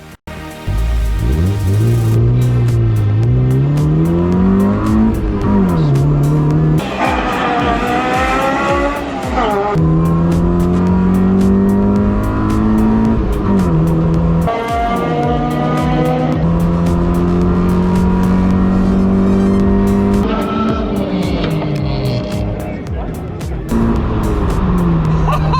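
A Honda Civic on a quarter-mile drag strip runs hard through the gears, its engine rising in pitch then dropping at each shift, loud and close for the whole run.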